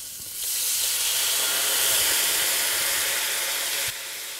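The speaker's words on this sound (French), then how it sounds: "on ajoute du beurre et on déglace à l'eau ou au vin blanc" A hot pan deglazed with water or white wine after butter is added, cooking brill fillets: a sudden loud steamy hiss lasting a few seconds before cutting off.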